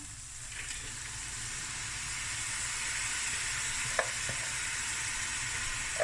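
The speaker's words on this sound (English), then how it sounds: "now I'm going to add my dal" Dal frying in a hot pot for a dhal curry, a steady close sizzle and hiss running the whole time with a couple of brief clinks of stirring near the end.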